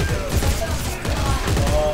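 A submachine gun fires in rapid bursts in Dead Space 3 co-op, a quick stuttering string of shots at moderate loudness with no talk over it.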